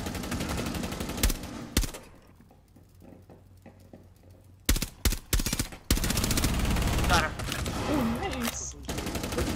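Rapid bursts of gunshots ring out in Rainbow Six Siege, a sharp crack early on and a dense rattling volley in the second half, with a player talking over the shooting.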